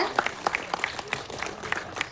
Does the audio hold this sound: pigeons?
no